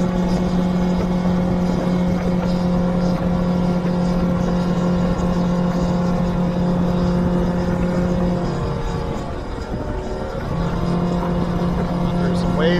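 A 2014 Biltmore boat with a Yamaha 200 outboard runs at wide open throttle, near 5,500 RPM, giving a loud, steady engine drone that dips briefly near the end as water and wind rush past.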